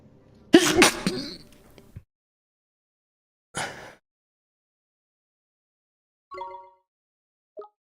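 A single sharp sneeze bursts out close to the microphone near the start, followed by a few brief, faint sounds and silence.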